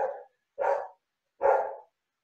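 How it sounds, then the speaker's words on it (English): A dog barks three times from nearby, evenly spaced deep woofs, each short and fairly loud against otherwise silent background. "and that's my dog, Bruno."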